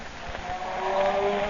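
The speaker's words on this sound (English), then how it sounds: "That was the sound of the Blue Beetle's magic ray." Humming of the Blue Beetle's magic ray in an old radio drama, a steady mid-pitched drone with a rising tonal line that swells slightly louder over a second and a half, with no voices over it.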